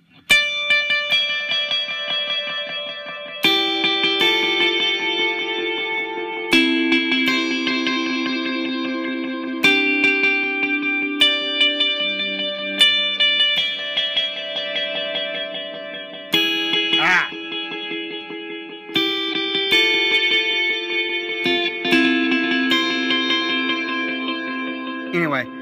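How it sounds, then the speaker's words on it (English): Electric guitar through a Boss DD-20 set to dual-head tape delay with high tone, effect level and feedback, sustained chords and notes smearing into dense repeating echoes that stack and overlap, loud and continuous with no talking. "I'll use a whole note, dual head tape delay, tone pretty much high, effects level high, and feedback high, and I get this type of sound"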